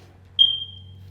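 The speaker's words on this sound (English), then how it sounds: "Excuse me for the smoke detector" Smoke detector in a gym giving a single short high-pitched chirp that quickly fades into a steady low background hum, heard alone without talk.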